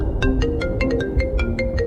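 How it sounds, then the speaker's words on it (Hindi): A phone ringtone in a cartoon plays as a quick run of repeated bright electronic beeps, steady and fairly loud over a low background hum, with no talking. "अब ये किसका फोन आया है?"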